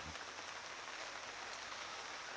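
Steady rain falling on a surface during a road trip, a dense, even hiss that holds at the same moderate level throughout, with no voices.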